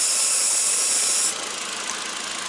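A used MK4 VW GTI engine idles with a steady, loud hiss-heavy hum from a vacuum leak; a high whine drops away partway through while the steady running noise continues.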